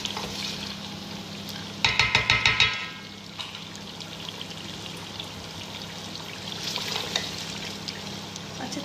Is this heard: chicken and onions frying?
yes